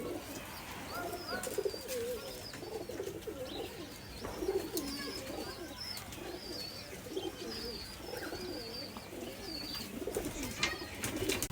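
A pair of imported Pilanka pigeons coo repeatedly in a steady overlapping chorus, with scattered chirps from other birds around them at moderate distance, no talking.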